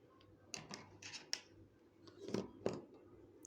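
Scissors snip thread during needle lace work, a few quiet, close clicks and cuts in a soft, hushed setting.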